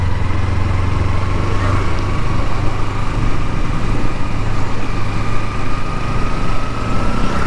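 Kawasaki Ninja motorcycle engine droning steadily while being ridden, a close, continuous hum with a constant pitch and no pauses throughout.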